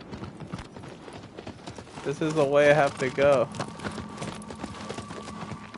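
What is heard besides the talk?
horse galloping in a video game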